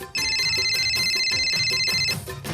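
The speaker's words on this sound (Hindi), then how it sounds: "इतने में अचानक मोबाइल की घंटी बजी।" A mobile phone rings loudly and steadily for about two seconds, a bright electronic ringtone with sustained tones, heard at a festive dandiya gathering with music underneath.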